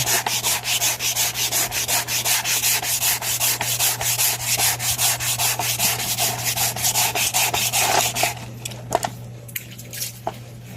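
Sandpaper worked by hand over a Yamaha XTZ motorcycle cover: fast, regular back-and-forth rasping strokes, close and loud, under a low steady hum, stopping near the end with a few scattered knocks.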